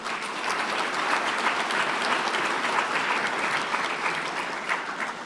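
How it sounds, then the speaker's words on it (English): A chamber of commerce audience delivers a steady, full round of applause at a parliamentary keynote event, many hands clapping evenly and loudly throughout with no talk over it. "a big, strong round of applause for that wonderful video"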